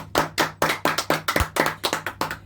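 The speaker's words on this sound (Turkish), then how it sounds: "Evet bir alkış alalım." Applause at a poultry coop tour, a small group clapping in a quick, uneven rhythm of sharp close hand claps lasting a couple of seconds.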